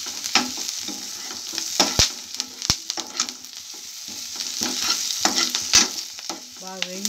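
Drumstick leaves fry in a pan with a steady crackling sizzle, broken up by sharp clicks and scrapes of a spoon stirring throughout, close and fairly loud, with no voices.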